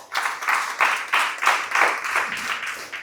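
A church congregation at an anniversary service claps together in loud, fairly regular bursts, filling the room for about three seconds with no talking.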